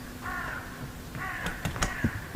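A crow character in the Hello Neighbor 2 video game caws in a few harsh, drawn-out calls, followed by quick clattering knocks, fairly close over a quiet background.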